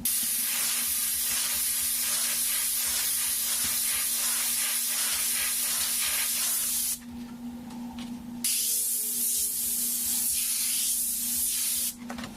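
An airbrush sprays red oxide paint through a flame stencil, a steady close hiss that runs almost continuously with a couple of brief pauses.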